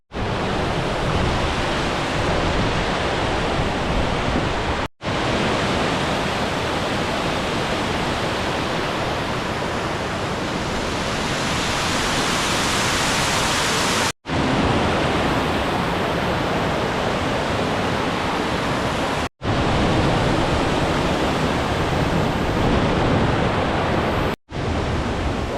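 The Sickle Tarn waterfall roars as a constant, dense rush of falling water, loud and close, broken only by a few abrupt cuts.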